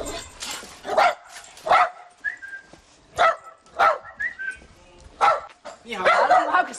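Two small dogs bark in sharp, irregular bursts, some yips and a whine among them, close by, while people talk and greet each other over and between the barks.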